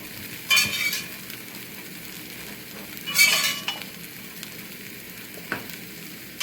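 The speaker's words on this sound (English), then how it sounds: "So now I'm going to add the gobi into it." Cauliflower florets sizzle and fry in masala with potatoes and tomatoes in a cast iron kadhai, the hiss rising in two bursts as pieces go in and are stirred, with occasional utensil clinks.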